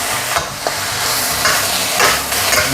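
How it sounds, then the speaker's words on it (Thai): Eggs are dry stir-fried with naem fermented pork and vegetables, loud close sizzling with repeated scraping strokes of a spatula in the pan at an uneven rhythm, no voices. "ให้เรา คั่วต่อไปเรื่อยๆนะครับ คั่วจนกว่ามันจะเริ่มแห้งนะครับ"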